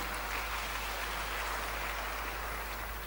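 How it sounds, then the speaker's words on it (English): Congregation applause at a church service, a steady dense clapping wash with no break that holds for the full few seconds at moderate distance. "Give him a round of applause."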